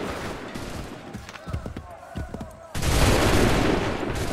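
Soldiers in the Assassin's Creed 3 video game fire a musket volley: a few scattered sharp reports, then a loud, sustained burst of massed gunfire at close range.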